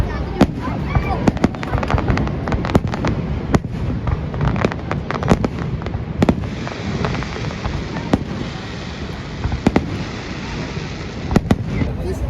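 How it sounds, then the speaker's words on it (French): Fireworks at Niagara Falls booming and crackling continuously, with sharp pops and bursts scattered throughout over a dense rumbling wash, people talking faintly in the crowd. "on vient de finir le feu d'artifice, ça allait durer un gros 4 minutes"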